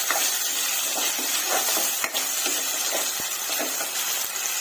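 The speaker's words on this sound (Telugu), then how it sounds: "చూడండి, టమోటాలు ఇలా బాగా ఫ్రై అయ్యాయి కదండి" Small tomatoes frying with ginger paste in a pan, giving a steady close hiss and sizzle with scattered pops and crackles, continuous and even with no talk.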